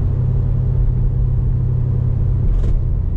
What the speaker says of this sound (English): This car has a really good exhaust sound, in my opinion.